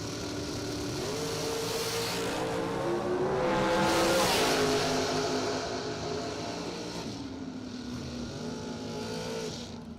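Drag racing cars at a bracket race, engines roaring and revving loudly as they launch and pull away down the track, the rising and shifting drone filling the whole stretch without any voices.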